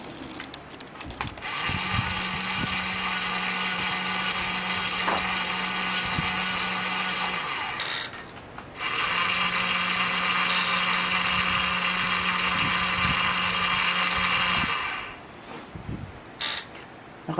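A Tamiya 5-speed twin gearbox motor, driving a Chebyshev-linkage paddling mechanism on a model canoe, runs at about 3 volts with a steady whirring mechanical hum, stopping briefly mid-way before restarting, with small clicks at the start and end.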